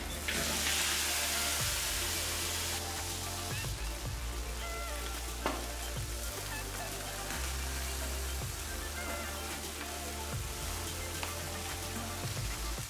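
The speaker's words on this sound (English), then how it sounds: "I add the ribs to the same large pot." Lamb ribs hiss and sizzle loudly in a large pot, a dense, continuous frying crackle with occasional bumps and shifting pops as the meat settles, lasting the whole stretch.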